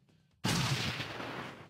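A grenade goes off in the video game Shadowrun Returns, one sudden loud blast that hits hard and then rolls on as a broad, sustained rumble after a quiet lead-in.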